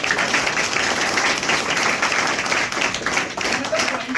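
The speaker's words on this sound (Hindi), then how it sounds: "उनके लिए जोरदार तालियां एक बार" A seated seminar audience at an institute in Balarampur claps loudly for the staff members, a close, continuous burst of many hands with slight fluctuations.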